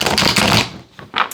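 A deck of tarot cards is riffled and shuffled close by, a dense papery flutter followed by a couple of short crisp card snaps.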